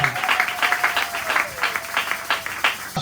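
A church congregation at a Sunday service applauding together, a dense, sustained patter of many hands clapping in a room, steady and fairly loud, with a held tone running through it.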